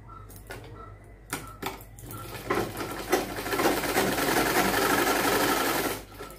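Sewing machine stitching the joint seam of a child's nima, a fast steady mechanical chatter that starts in short bursts, then runs continuously and loud before stopping near the end.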